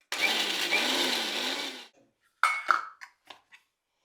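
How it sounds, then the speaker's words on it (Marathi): A kitchen mixer grinder whirs loudly for about two seconds while grinding garlic, Byadgi chili powder and salt, then stops, followed by several short bursts and rattles of the jar, close and with no speech. "आता त्याच मिक्सरच्या भांड्यात घेऊया लसूण, बेडगी मिरची पावडर आणि मीठ. यालाही बारीक करून घेऊ."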